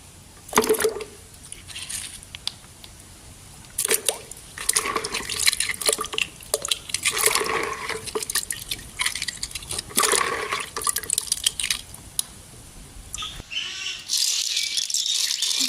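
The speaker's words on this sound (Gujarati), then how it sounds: "આટલા શંખ નીકળ્યા, એને સાફ કરવા જોઈએ પાણીમાં" Conch shells get rinsed and rattled in water by hand, with bursts of clattering, splashing and dripping coming and going over several seconds, close and moderately loud, no talking.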